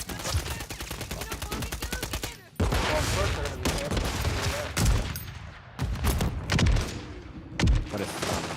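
Rapid video game gunfire crackles in sustained bursts, dense and loud, with brief pauses between volleys and a few heavier thumps.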